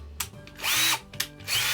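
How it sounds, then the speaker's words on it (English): A power drill whirs in short bursts, spinning up and stopping repeatedly as it removes drum head screws, close by with no talking. "the quickest way to do that is with the drill"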